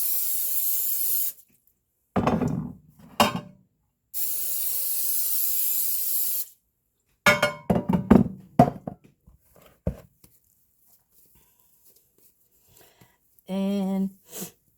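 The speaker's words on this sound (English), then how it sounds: "So I spray our pans." Cooking spray hissing onto baking pans for sourdough dinner rolls, two long steady sprays separated by short bursts and clattering pan handling nearby, ending with a brief voiced sound.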